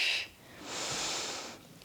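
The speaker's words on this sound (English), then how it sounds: "So exhale." A long, breathy exhale during a gentle strength exercise class for people over 60, preceded by a short sharp sniff-like breath; close and fairly quiet, with no talking over it.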